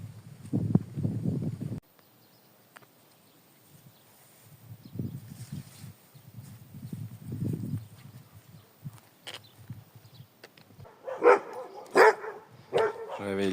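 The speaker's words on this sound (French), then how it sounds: "Je réveille les chiens." Dogs along the pilgrimage route to Santiago de Compostela bark in irregular bursts, some deep and near, others sharper and yelping, with quiet gaps between and a louder cluster toward the end.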